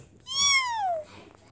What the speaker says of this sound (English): You are a kitten.